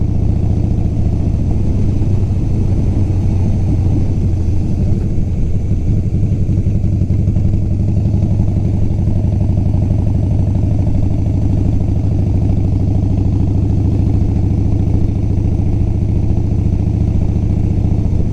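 A motorcycle engine drones steadily throughout, loud and close with a constant mid-pitched rumble and light clatter, heard as the bike heads out for a spin around Daytona during Biketoberfest, with no voices.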